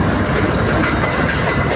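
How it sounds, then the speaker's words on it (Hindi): A GEU-40 locomotive hauls the Green Line Express into Lahore Junction in Pakistan with a loud, steady rumble of rolling wheels and rhythmic clickety-clack from the passing railcars, close by and alone. "5 ऑफ ग्रीन लाइन एक्सप्रेस जो कि आप मेरे सामने देख सकते हैं,"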